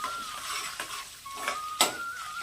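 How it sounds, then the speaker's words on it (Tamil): Small cut pieces frying in ghee in a pan for sakkarai pongal, close sizzling broken by several scraping stirs and a sharp metallic clink of the spoon against the pan. "இதை நெய்யில் நல்லா வறுத்து எடுத்துக்கணும்."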